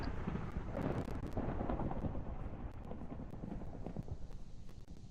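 Thunder from lightning in a Minecraft tornado mod rolls as a low, continuous, faint rumble mixed with wind-like noise.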